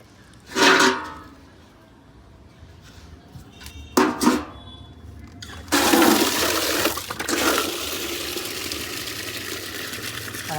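Water poured onto potted plants on a rooftop, with a brief splash, a second short gush, then a steady, loud, close stream of running water that lasts several seconds, with no talk.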